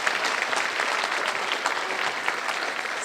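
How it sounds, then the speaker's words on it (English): An audience claps at a school district awards luncheon, a dense, steady round of applause at moderate distance throughout, with no one speaking over it. "One more round of applause."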